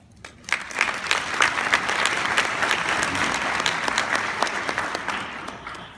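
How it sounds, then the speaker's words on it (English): A crowd at a Harambee graduation celebration for University of Kentucky graduates applauds steadily for about six seconds, a dense wash of claps with sharper individual hand strikes poking through, loud and sustained without a clear fade. "Please give yourselves a pat on the back and a round of applause because you've made it thus far"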